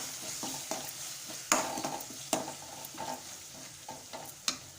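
Turmeric, chilli and coriander powders are sautéed in a pan while being stirred, giving a soft sizzle broken by several sharp scraping clicks of a spoon against the metal, close and fairly quiet.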